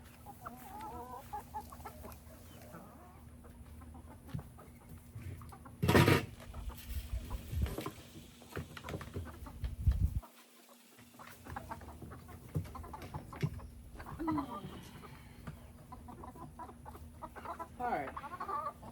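Chickens and a rooster cluck and call inside a backyard coop, close and irregular, with a sharp louder squawk midway and a quieter rustling background. A person talks intermittently throughout.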